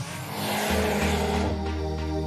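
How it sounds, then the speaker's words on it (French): A VW Golf R engine revs up loudly and then holds a deep, throaty drone, with a gearshift-like change partway through; no voices. "la bande-son moteur vient remonter le niveau"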